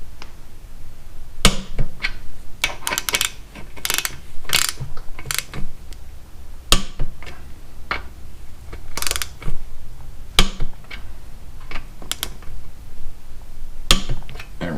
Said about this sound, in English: Putting the caliper bolts on at 25 foot-pounds.